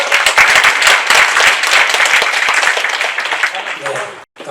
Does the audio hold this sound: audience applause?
yes